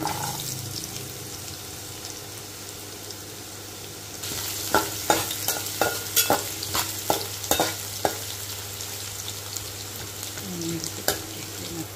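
Ginger, urad dal and carrot frying in hot oil for upma: a loud broadband sizzle bursts in partway through and holds steady, with repeated scraping stir strokes and small pops close by.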